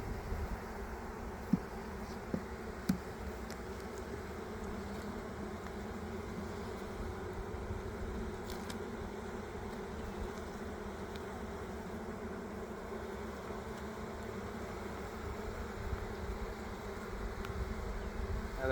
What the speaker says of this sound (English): Another frame that has a lot of nurse bees in the center there.